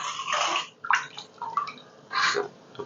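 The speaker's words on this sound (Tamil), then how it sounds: "இப்போ வந்து குழம்பு கொதிச்சிருச்சு நாங்கள் வந்து மீனை போட்டுருவோம்" Fish pieces dropped into a boiling fish curry in a pot, giving a few close, splashy bursts of bubbling and sizzle with short pauses between them, no voices.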